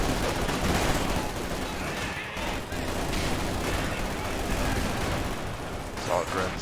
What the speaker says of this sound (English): Assault grenades do get one grenade off, but that was a huge grenade